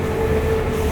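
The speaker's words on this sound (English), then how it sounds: "On the train now" Interior of a moving train: a steady, loud rumble with a constant droning hum fills the carriage, with no talking.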